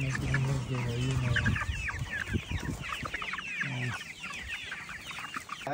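Hens cluck and squawk in a busy, overlapping chorus close by in San Miguel, El Salvador, with a voice briefly audible underneath.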